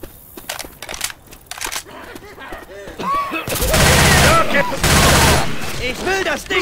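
Rapid bursts of gunfire in Left 4 Dead 2, dense volleys of shots layered over game noise and excited voices.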